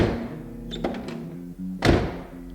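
The door of a 1966 Pontiac GTO Tri-Power swings and shuts with a solid thunk, close and fairly loud, preceded by light clicks of the latch and hinge.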